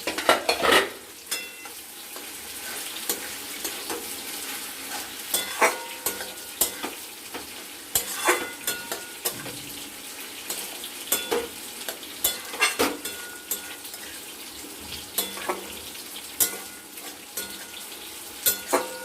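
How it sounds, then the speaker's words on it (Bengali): Cabbage cooking with fish head and potato on low heat, stirred in a pan after the lid comes off: a low continuous sizzle with frequent sharp metal spatula scrapes and clinks against the pan, irregular and close, with no voices. "এবার ঢাকনা খুলে আবার একটু আমরা বাঁধাকপিটাকে নাড়াচাড়া করে দেব"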